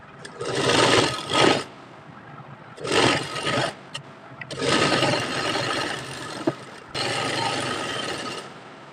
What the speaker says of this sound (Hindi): दोनों की सीधी साइड अंदर की तरफ रखना है और ये आसन वाली सिलाई लगा देंगे।